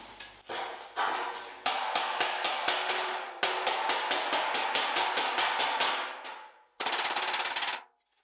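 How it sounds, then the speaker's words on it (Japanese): A file hammer rapidly taps out a dented front fender panel on a Mazda RX-7 FD3S during bodywork repair, dense loud metallic rattling bursts of fast blows, pausing briefly before a final burst. "これ R がついてるからちょうどいい感じにこの逆 R のところを叩きやすい"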